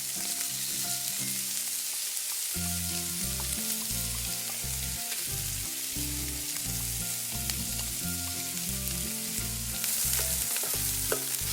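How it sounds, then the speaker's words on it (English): Beef sizzles steadily in olive oil in a pan for a sustained stretch, a dense crackling fry with no talking over it and a low background hum accompanying it. "Now let's add the beef."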